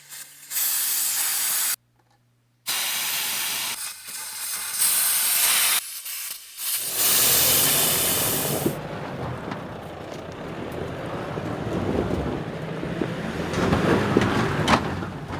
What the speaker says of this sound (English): I'll air down my tyres and then I'll come up.